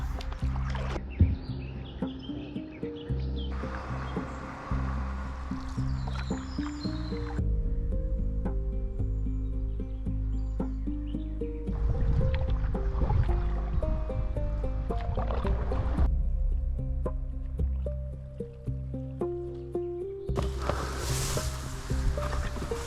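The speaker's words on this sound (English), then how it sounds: "So let's continue pedaling and find more animal tracks." Canoe paddling on the Hunze River in Drenthe, with soft, irregular paddle splashes and water drips repeating close by over a steady outdoor background and no talk.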